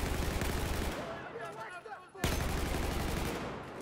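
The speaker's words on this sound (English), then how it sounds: "I spotted hostile machine gun." Sustained machine gun fire in the video game Battlefield 4, a dense continuous rattle of rapid shots that breaks off briefly and then resumes, loud and close.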